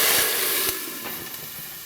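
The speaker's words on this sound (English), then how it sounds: "that's just frying onions" Onions frying in a hot pan for a pilau rice onion stock give a loud, broad sizzling hiss with a few crackling pops, steady and close throughout.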